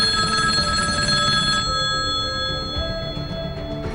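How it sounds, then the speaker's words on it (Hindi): A telephone rings with a loud, continuous electric bell trill, the ringing steady and alone before fading slightly toward the end. "होटल के नंबर पर एक फोन आया"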